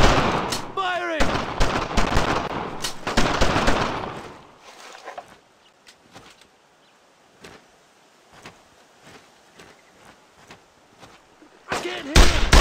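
Gunfire from the World War II video game Brothers In Arms: Road To Hill 30, loud bursts and rapid shots under shouted voices at the start, then a quieter stretch of scattered distant single shots before another loud burst at the end.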